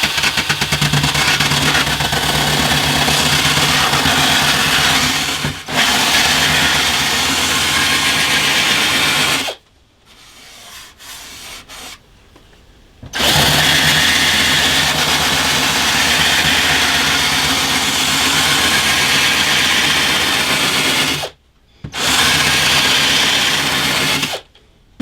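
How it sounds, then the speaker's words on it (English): A drill-driven rolling pin sander, a pivoting sanding drum on a spindle, buzzes loudly as it sands binding on a handmade guitar, running in long steady bursts broken by short silent gaps. "these have been described as rolling pin sanders"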